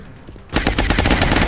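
After a brief quiet moment, loud, close gunfire erupts in a rapid, drumming burst of many overlapping shots that continues to the end.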